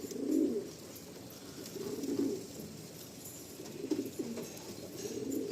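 Pigeons cooing nearby at a pigeon sale in Garia, in repeated low, throaty bursts every second or two over a faint hiss.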